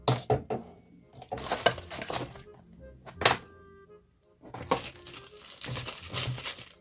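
Metal nut sockets from a Total socket set, three sizes in a plastic case, clink and thunk against each other and the case in several loud, close bursts separated by brief pauses.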